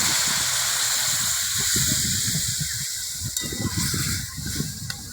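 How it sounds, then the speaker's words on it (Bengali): Water poured into a hot pan of reddened fried vegetables for a Bengali fish curry with raw mango hisses and sizzles steadily, a bright continuous steam hiss with bubbling underneath that slowly settles. "এবার আমি জল দিব,"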